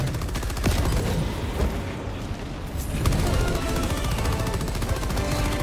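Video game gunfire crackles in rapid, sustained bursts like automatic weapons, with heavier booms mixed in, loud and close throughout.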